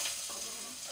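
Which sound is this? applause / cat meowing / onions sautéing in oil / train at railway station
onions sautéing in oil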